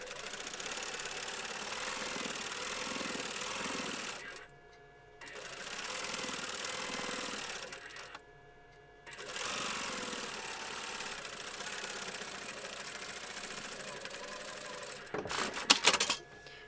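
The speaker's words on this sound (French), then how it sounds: "coudre la poignée si vous voulez" A domestic sewing machine running a tight stitch along the handle of a reversible patchwork bottle bag, whirring steadily in three long bursts separated by brief pauses, close and fairly loud with no talk.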